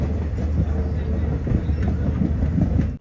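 A train running from Banihal to Srinagar in Kashmir, a dense continuous rumble and rattle heard from inside the carriage, loud and steady without pause.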